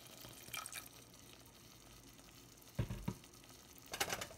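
Ketchup, garlic and onion sauce is stirred in a pan, a quiet background simmer broken by a few soft spoon scrapes and knocks, clustered near the end.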